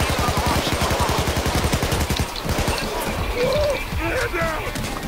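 Rapid automatic gunfire from Payday 2 rattles in a fast, steady stream of close shots that tapers off into scattered noise and clatter.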